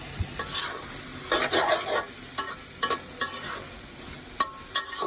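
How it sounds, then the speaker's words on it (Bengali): Cabbage frying with liver in a pan as cumin is added, with scraping stirs and soft sizzling in irregular bursts, close and moderately loud, and no talking. "বন্ধুরা আমার পাতাকপিটা হয়ে গিয়েছে ভাজা ভাজা, এখন একটু জিরা ফাঁকি দিয়ে দিচ্ছি"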